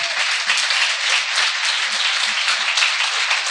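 Church congregation clapping for the Lord at a contemporary Brazilian evangelical service, a loud, dense, steady roar of many hands with slight swells in intensity throughout.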